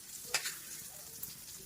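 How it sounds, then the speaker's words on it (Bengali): Dried fish (shutki) frying in a pan, a soft, faint sizzle with a couple of quick scraping clicks from stirring near the start. "সঞ্চিতা শুটকি ভাজছে লাল করে।"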